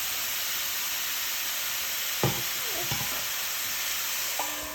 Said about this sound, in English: We're gonna bring it to a simmer and cover it for 5 minutes.